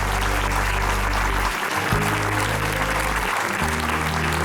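Steady, sustained audience applause at a Portuguese book event, a dense wash of clapping running throughout over a low electrical hum.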